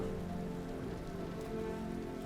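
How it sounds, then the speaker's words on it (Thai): Rain falls steadily in the video game Road 96, a dense, even patter on surfaces that runs unbroken and fairly close, with no voices over it. "เดี๋ยวไปรอฝนหยุดตกข้างในดีกว่า"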